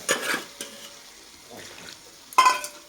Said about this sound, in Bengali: এখন আমি এটাতে জল দেবো, জল দিয়ে দিলাম